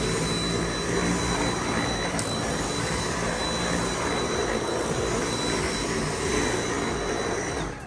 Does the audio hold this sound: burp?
no